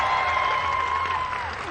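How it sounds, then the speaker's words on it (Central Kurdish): An audience at a comedy show in Sulaymaniyah's City Center claps in a brief, steady wash of applause heard from within the hall, with no one speaking over it. "دەنگی چەپڵەتان نایە"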